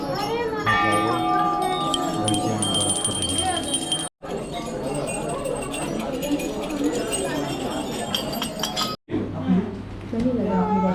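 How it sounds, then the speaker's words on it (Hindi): Bells clink steadily at a hidden temple in Nashik, where many bells hang tied together, a dense metallic jingle running throughout under people talking, with two brief cuts. "तो यहाँ पे जो आपको ये घंटियाँ दिख रही हैं"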